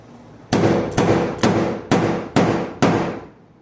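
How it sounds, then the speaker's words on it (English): Six heavy hammer blows strike a bent, inward-curved car fender at an even pace, each a sharp metallic bang with a short ringing decay, close and loud, with no voices. "let's see if we can just muscle it out with a hammer"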